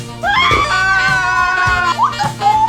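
A woman's loud, high-pitched scream of fright held for over a second, followed by shorter shrill cries, close and alone.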